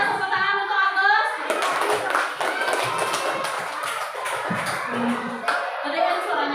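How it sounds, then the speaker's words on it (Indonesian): Classroom applause for a student named Agus, a burst of many hands clapping fairly close, steady and dense for several seconds, mixed with children's chatter and shuffling. "tepuk tangan untuk Agus"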